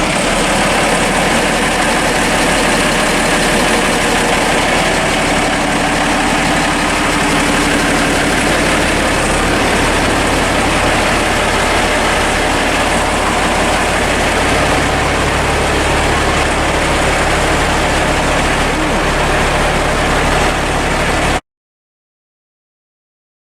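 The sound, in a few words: 1991 Mercedes Unimog engine idling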